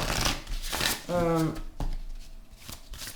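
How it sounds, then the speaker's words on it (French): A deck of oracle cards is shuffled in a short, fast riffle of papery flutter, with a person speaking before and after it. "On va tirer 3 cartes."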